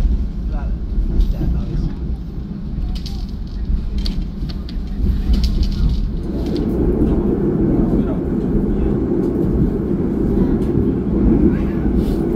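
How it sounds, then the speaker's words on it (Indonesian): Ambarawa Express passenger train pulling out of Surabaya Pasar Turi station, a steady low rumble of rolling wheels and engine that thickens midway, with clicks and crowd noise around it. "kereta api Ambarawa Express sudah diberangkatkan dari stasiun Surabaya Pasar Turi menuju tujuan akhirnya di stasiun Semarang Poncol"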